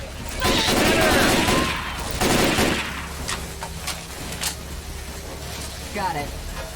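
Gunfire in the video game Left 4 Dead 2: loud bursts of rapid shots in the first few seconds, then scattered single cracks, with players' voices in the mix.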